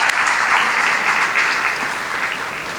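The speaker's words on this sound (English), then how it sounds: "please join me in welcoming them and welcoming this great community here by giving them a big round" Big round of applause from the audience at a community celebration held by a cultural and social club, dense and steady throughout, filling the room with no talk over it.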